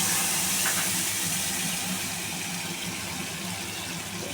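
A paste of boiled tomato, ginger and green chilli hits hot oil in a pan for a tangra fish curry, giving a loud, continuous sizzling hiss that eases slightly as it goes on.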